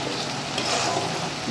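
Gravy sizzling and spitting in hot oil in a pan as water goes in for a Bengali koi fish curry, a steady loud fry hiss with no pauses and no voices.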